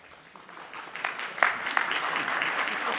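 An audience at a meeting claps, the applause swelling from a faint start into a steady, fairly loud patter of many hands that carries on to the end.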